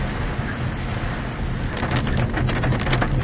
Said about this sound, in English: the rain's still coming down heavily